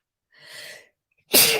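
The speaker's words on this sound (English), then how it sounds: "So I'm going to sneeze." A single close, loud human sneeze, preceded by a sharp breathy inhale, then a brief pause before the explosive release.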